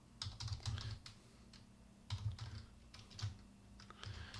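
Typing on a computer keyboard, close and quiet, with quick clusters of keystrokes separated by short pauses.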